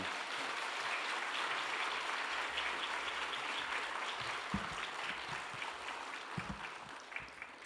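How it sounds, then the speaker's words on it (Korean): A church congregation claps to welcome a guest missionary, with steady, moderately loud applause spread across the room and lasting several seconds, a few louder claps near the end. "성교사님 나오실 때 큰 박수로 환영하시겠습니다"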